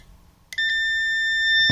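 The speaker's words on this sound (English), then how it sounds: "See, somehow some beep is there." A circuit board continuity test triggers an electronic tester's beep: a short blip, then a sustained, steady high-pitched tone that holds to the end, closing on a brief low thump.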